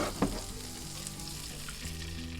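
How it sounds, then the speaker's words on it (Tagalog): Prawns just fried and set aside, then a cup of water poured into the same hot pan for garlic buttered shrimp, giving a steady broad sizzle that settles into an even bubbling hiss, close and alone. "on the same pan, let's add 1 cup water."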